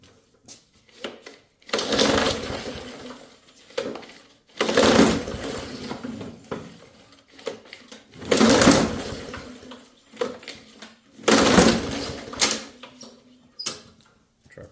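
An old push lawnmower with a freshly cleaned carburetor being pull-started repeatedly, four long rasping recoil pulls with the engine cranking but not catching, close and loud with short pauses between.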